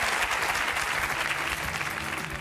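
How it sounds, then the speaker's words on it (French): Studio audience applause on a French reality television show, a dense, steady wash of many hands clapping at even loudness throughout, with no voices over it. "On vous applaudit très fort pour vous encourager pour la suite."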